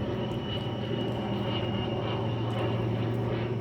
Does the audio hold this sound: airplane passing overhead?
yes